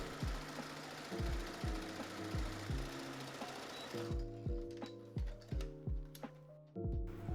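A sewing machine stitches a long seam on a lace sleeve for a wedding dress, a rapid, regular mechanical thudding of the needle, loud and close, running in bursts with brief pauses.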